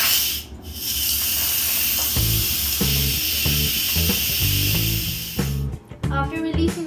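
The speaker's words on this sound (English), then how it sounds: "After releasing the steam" Instant Pot vent releasing steam after cooking butter chicken, a loud continuous close-up hiss with some background music underneath, cutting off near the end.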